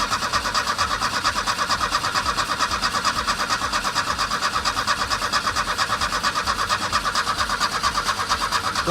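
An Opel Manta with a fuel pump problem cranks continuously without catching, the starter churning in a fast, even rhythm for the whole stretch, loud and close.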